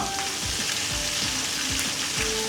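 Garam masala paste sizzles as it hits a hot pan for a chicken roast, a steady close frying hiss with soft stirring scrapes, no voices.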